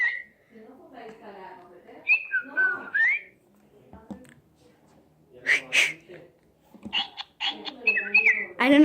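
A person whistles short rising and falling notes toward a small pet bird, in bursts between quiet gaps, with faint chirps and brief voices nearby.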